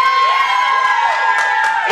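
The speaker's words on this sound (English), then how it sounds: "all they got to do is just let us know by cheering or chanting or anything" A crowd at a sideshow performance at a tattoo expo cheers and shouts loudly and continuously for about two seconds, with bright whoops rising over the noise.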